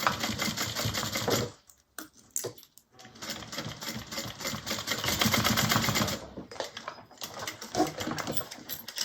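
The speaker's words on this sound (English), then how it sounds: "Okay, so I'm just going to sew this down." A sewing machine runs in fast, close mechanical bursts as it stitches down a fabric bag strap, pausing briefly twice before resuming its steady rattling hum.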